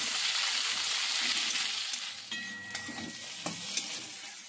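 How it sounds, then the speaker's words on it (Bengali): Tomato, ginger, garlic and onion sizzle in hot oil in a pan, a strong frying hiss that fades midway and gives way to quieter sizzling broken by a few scraping stirs. "এরপরে টমেটো, আদা রসুন আর পেঁয়াজ খুব ভালো করে আমি কষে নিচ্ছি।"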